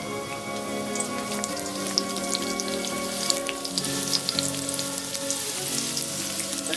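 Sliced red onion hits hot oil in a wok and sizzles steadily, a dense crackling spatter with scattered pops running continuously and fairly loud, with no talk over it.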